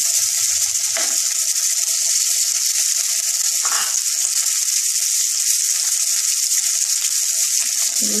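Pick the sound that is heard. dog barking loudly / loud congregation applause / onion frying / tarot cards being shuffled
onion frying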